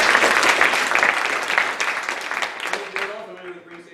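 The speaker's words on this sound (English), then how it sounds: "a round of applause for Four Arts" Outdoor theatre audience gives a round of applause that is dense at first, then thins into scattered claps and fades as a voice begins speaking near the end.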